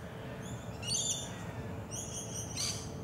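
Birds calling at a bird sanctuary: two short bursts of high chirping calls, faint and somewhat distant, over a steady low outdoor rumble.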